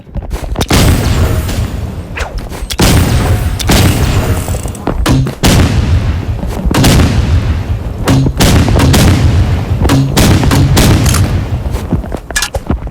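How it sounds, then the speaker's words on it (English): Grenade launcher fired repeatedly in a first-person shooter, loud booming shots and explosions in a dense rapid sequence with brief gaps, dominating the mix. "now we'll be using grenade launcher"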